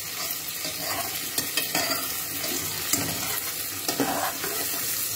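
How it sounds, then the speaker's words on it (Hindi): Onions fry in butter over a full flame, giving a steady, close sizzle with occasional stirring scrapes and clinks. "चूल्हे को मैं फुल आँच पे कर दिया है ताकि प्याज जल्दी लाल हो जाए"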